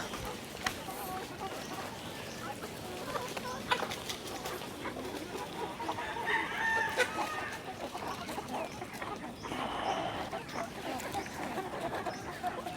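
Chickens nearly four months old are fed a mix of rice and jackfruit on a farm. Soft, scattered clucking runs throughout at moderate distance, with occasional faint voices in the background.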